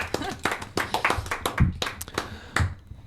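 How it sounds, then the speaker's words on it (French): Scattered audience clapping for Vanille Le Bouliec in a studio broadcast, a handful of uneven, separate claps rather than a full ovation, fairly close and moderately loud. "Vanille Le Bouliec, on peut l'applaudir bien fort."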